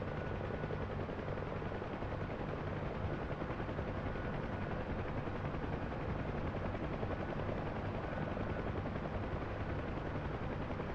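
A Huey helicopter in the DCS World flight simulator, its rotor and turbine making a dense, constant, heavy thrum with rapid blade chop that stays loud and unbroken throughout.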